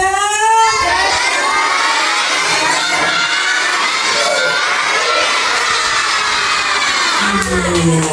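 A crowd of Indonesian elementary schoolchildren shouts a loud, continuous school cheer together, energetic and close, ending as a single voice calls out.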